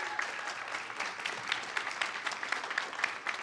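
Steady applause from a crowd, a continuous patter of many hands clapping at moderate volume with no voices over it.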